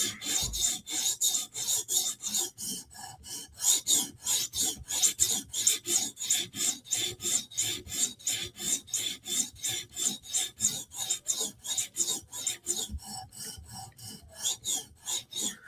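A Chris Reeve Sebenza Tanto knife edge is drawn across a sharpening stone in quick, even back-and-forth strokes, each a crisp rasping scrape, repeating dozens of times with brief pauses, close and clear with no talk.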